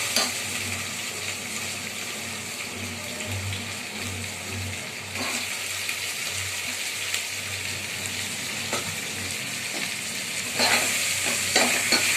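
Tomatoes sauté with browned onions for prawn biryani, a dense, loud sizzle broken by occasional spatula scrapes and clinks against the pan, busier toward the end, with no talking.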